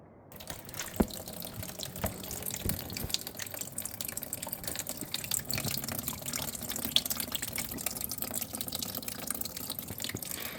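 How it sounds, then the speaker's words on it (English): Water drains from a car radiator into a container, a steady trickling and splashing of liquid with occasional drips, close by and moderately loud throughout, with no one speaking. "I'm going to drain the water from the radiator, put it in here"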